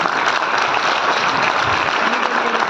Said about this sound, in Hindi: बैठे जोरदार तालियां दोनों के लिए।